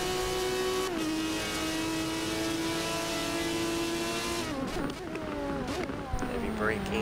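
Race cars in a Nurburgring endurance GT racing game, led by an Aston Martin, hold a steady high engine whine, then the pitch drops and wavers as the cars brake hard into a turn. A commentator talks over it.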